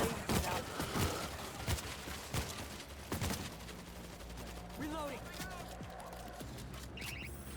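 Gunfire in the zombie shooter World War Z, a dense volley of shots in the first few seconds giving way to scattered shots under game sounds and team chatter.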